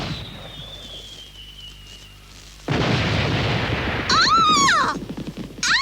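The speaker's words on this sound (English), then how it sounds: "They're fireworks in your honor." Fireworks in a Moomin cartoon, a rising whistle followed by a loud sustained booming crackle and sharp bursting pops, with a squealing whistling note near the end.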